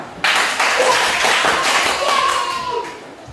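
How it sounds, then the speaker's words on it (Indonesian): Clapping from a primary school class in a teaching session, a burst of hands striking in quick rhythm that starts sharply and carries on briefly, with some talk mixed in. "Tepuk tangan."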